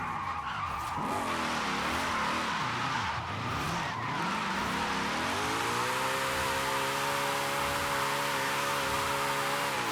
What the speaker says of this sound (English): It's my first day drifting, guys.